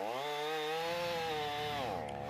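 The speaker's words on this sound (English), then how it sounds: "Another sound reverberated through the neighborhood today, the sound of chainsaws." Chainsaw engine revving steadily while cutting storm-toppled trees in a York County neighborhood during cleanup, a loud continuous whine that holds its pitch then dips and rises near the end.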